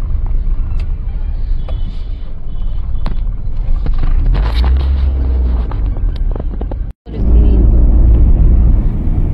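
A family's new car driven along a road by the father with relatives riding inside, a steady loud low rumble of engine and road noise with wind buffeting and a brief dropout partway through.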